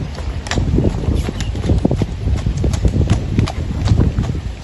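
Hooves of a horse being ridden clip-clop steadily on the ground, a close, continuous rhythmic patter of hoofbeats with faint background noise throughout.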